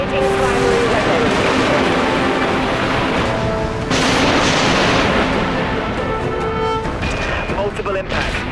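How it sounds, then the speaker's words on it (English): Spaceship primary weapons firing in the Dreadnought video game, a sustained barrage of heavy booming shots and rumbling blasts that swells loudly around midway, with a voice speaking over the gunfire. "Activating primary weapons."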